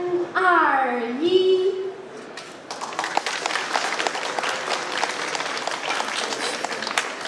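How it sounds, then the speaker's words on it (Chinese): A speaker's voice opens, then a crowd breaks into sustained, dense applause at a ribbon-cutting for Andrey Kartashov's solo painting show at the Liu Haisu Art Museum in Shanghai, steady and fairly loud to the end. "大家掌声热烈一点，好不好？"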